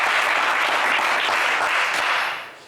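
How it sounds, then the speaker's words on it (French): Studio audience applause on the French television game show Le Coffre Magic, a loud, dense burst of clapping that stays full for about two seconds before quickly dying away. "Allez, c'est pas mal, on vous applaudit bien fort."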